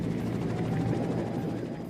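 A Huey helicopter's rotor gives off a steady, loud, continuous thudding drone that fills the scene, with no talking.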